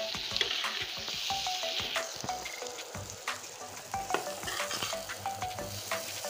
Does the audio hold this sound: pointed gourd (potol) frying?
yes